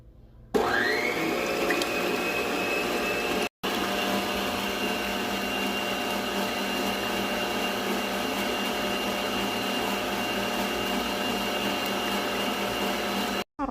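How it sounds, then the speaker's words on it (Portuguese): An electric stand mixer beats eggs into a sweet bread dough, giving a loud, steady motor whir that runs almost continuously, with one brief stop and restart partway through. "a gente vai só abaixar aqui a batedeira e bater um pouco"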